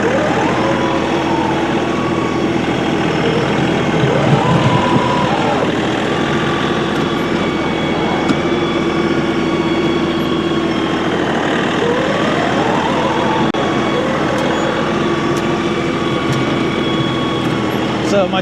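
Shuttle-shift tractor with a front loader pushing a loose pile, its engine droning steadily and loudly throughout, with pitch rising and falling as it works.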